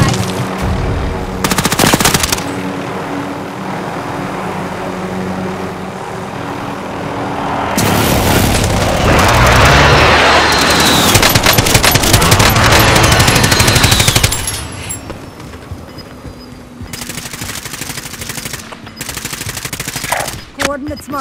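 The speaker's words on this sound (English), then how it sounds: "Receiving hostile fire." Machine gun fire in Call of Duty: Warzone, with loud sustained bursts and rattling volleys over game noise, a long heavy stretch of continuous fire and booms, then sparser shots.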